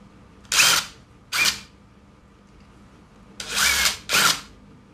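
A power drill unscrewing gearbox screws: four short whirring bursts close by, two spaced apart and then two in quick succession, with quiet pauses between.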